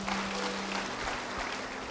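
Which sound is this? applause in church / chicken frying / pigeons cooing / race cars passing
applause in church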